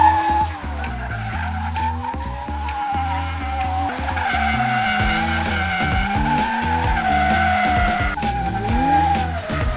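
A drift car's tires skidding and squealing on a track, with sustained screeching over a loud, revving engine that rises and falls as the car slides, close and prominent throughout.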